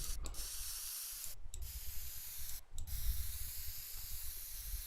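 Spray paint hisses in the video game Teardown in a steady continuous stream, broken by three short pauses, close and fairly quiet.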